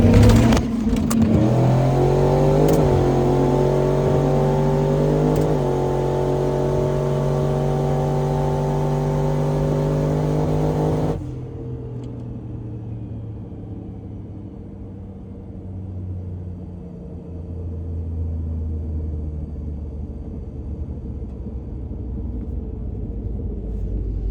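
Turbocharged Dodge Dakota RT truck with a stock bottom end making a drag racing pass: loud rising engine roar through several gear changes, then a sudden drop to a lower rumble as it backs off, heard close without talk.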